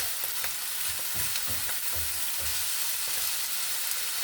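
Sausage frying in a pan at a campsite, a constant hissing sizzle with soft low thumps as the pan is moved, nearby and steady, with no speech.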